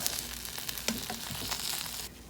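A veggie and rice burrito browns in a hot pan, giving a steady close sizzle and frying hiss that holds evenly before dropping off abruptly near the end, with a few soft stirring or pan touches and no talk.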